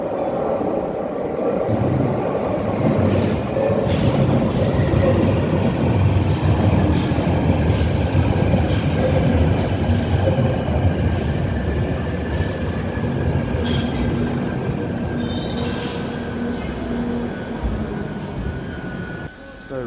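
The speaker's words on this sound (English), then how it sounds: "Oh, here comes my train now." A London Underground train pulls into the station, its loud rumble filling the platform throughout while high wheel squeals rise and hold steadily toward the end as it slows.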